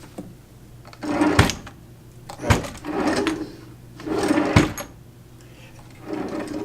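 An old drawer running on rollers slides open and shut three times, each pass a scraping roll that ends in a sharp knock, with a fainter fourth slide at the end, close and fairly loud.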